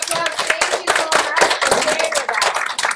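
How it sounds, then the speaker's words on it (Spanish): Applause at a Reading Across America event: a dense, steady run of many hands clapping for the full three seconds, fairly close, with voices mixed into the crowd. "¡Big round of applause!"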